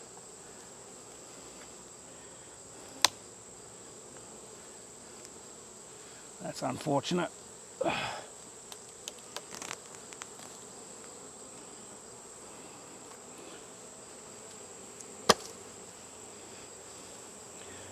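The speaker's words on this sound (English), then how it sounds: "See all these bees down here?" Honey bees around a heavy hive box during a honey harvest, a faint steady buzzing hum running throughout, with a few knocks and scraping handling noises midway and a brief spoken remark.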